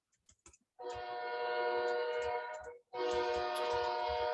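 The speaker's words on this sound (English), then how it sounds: "Sorry, there's a train in the background, which I'm sure that you can all hear." A train passes close to a house, its horn sounding in two long, loud blasts with a short gap between them, rich sustained harmonic tones that dominate the scene.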